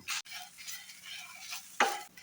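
Black pepper, coriander seeds and cumin dry-roast in a pan on a gas stove for an egg masala, with spoon scrapes and stirring rattles, short bursts of seeds shifting and a sharp scrape near the end, close and quiet.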